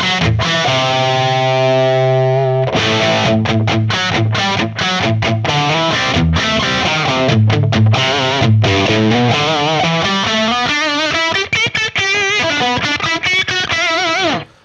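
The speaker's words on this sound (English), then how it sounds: "That's a nice just rockin' Marshall tone." High-gain electric guitar through a UAFX Lion 68 amp modeler pedal, opening on a sustained distorted chord, then fast chugging riffs and single-note runs, loud and close before cutting off at the end.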